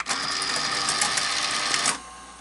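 Sanyo 4000 Beta VCR mechanism running in play, a steady close whirring mechanical hum with faint ticking that stops abruptly, leaving low background noise.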